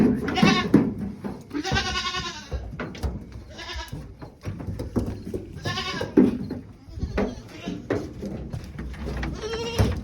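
Goats bleat repeatedly nearby, loud wavering cries overlapping with people talking and moving around.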